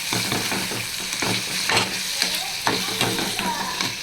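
Onion and tomato fry in a pan for mutton liver fry, giving a loud, close, steady sizzle broken by scraping stirs of a spatula.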